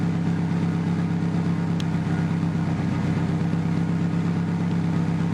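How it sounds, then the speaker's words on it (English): Turbocharged VW Beetle engine running steadily with a low, even idle hum, close and continuous, with no people talking. "It revs up a little while, then it'll go back into an idle."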